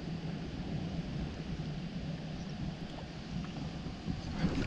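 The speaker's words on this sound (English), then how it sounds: "The wind is really terrible" Strong wind buffets a fishing boat out on the water during bass fishing, a steady low roar of rushing air across the microphone that runs throughout with no voices.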